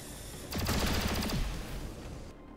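Soldiers firing weapons in XCOM 2, a rapid burst of about a dozen loud, closely spaced shots lasting roughly a second, followed by a fading echoing tail, with no voices.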